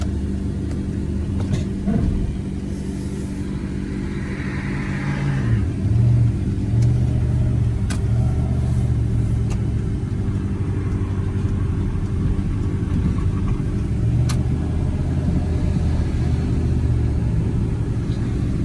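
A 1996 Dodge Ram pickup truck engine runs steadily with a low rumble, rising slightly as it accelerates, no voices.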